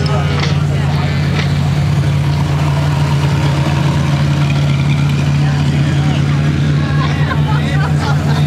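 A Porsche GT4 RS engine idling and revving amid a car show crowd at the Quail during Monterey Car Week, a loud low steady hum with voices and crowd chatter around it.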